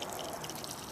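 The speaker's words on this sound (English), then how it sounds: "Here come them first runnings." Beer wort first runnings trickle and drip steadily for a moment while draining during a home porter brew, a soft continuous pouring flow with no voices.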